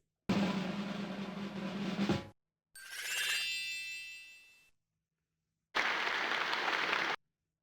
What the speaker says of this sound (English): And the lovely canned applause.